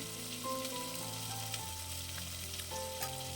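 Ripe tomatoes with salt fry in a pan for rasam, giving a steady, close sizzle that holds an even level throughout with no voices and a faint underlying hum.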